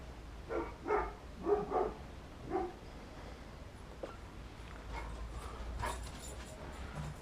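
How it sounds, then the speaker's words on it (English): A dog at home barks several times in a short burst, a few loud, close woofs followed by quieter whimpering noises and background hum, with no talk. "Dog's gone mad."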